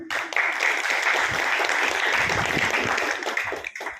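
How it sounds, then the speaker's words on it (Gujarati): Audience at a yoga introduction session in an ashram applauding, a loud sustained burst of clapping that fades slightly at the end. "એટલે એમના માટે જોરદાર તાળી"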